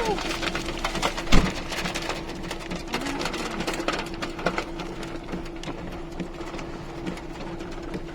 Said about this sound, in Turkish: Ama felaket felaket dolu yağıyor.